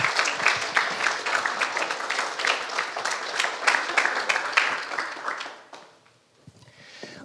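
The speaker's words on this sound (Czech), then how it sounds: "Můžeme zatleskat." Audience applause at a church gathering hosting a talk by a missionary back from life among the Maasai in Tanzania: dense, steady clapping for about five seconds that quickly fades to near silence.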